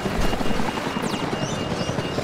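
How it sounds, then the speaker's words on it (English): Helicopter in the video game Ty the Tasmanian Tiger 2: Bush Rescue, a steady loud rotor drone with chopping pulses, continuous throughout with no talk. "Oh no, I had to catch the helicopter."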